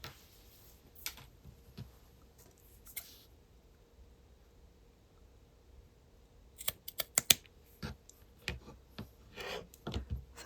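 Scissors cut material for handmade faux cabochons: a quiet stretch with a few soft handling clicks, then a quick run of crisp close snips near the end.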